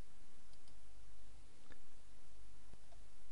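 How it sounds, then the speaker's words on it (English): A few faint, sparse computer mouse clicks during a right-click and copy, sitting over a steady background hiss with no voice. "I do right click and copy."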